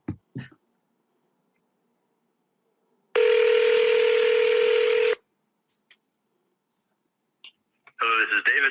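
A telephone call being placed: a single steady tone rings out for about two seconds, clear and fairly loud, then silence before a voice answers at the end.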